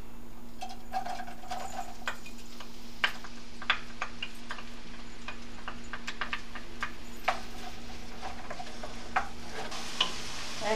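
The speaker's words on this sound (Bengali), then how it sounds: "চুলাটাকে অন করে দিয়ে 4 টেবিল চামচ পরিমাণ তেল, প্রথমে পেঁয়াজ কুচিটা দিয়ে দিব" Chopped onion fries in oil in a pan while making shingaras, a steady low sizzle under regular light ticks and scrapes of a spatula stirring, with a faint constant hum in the background.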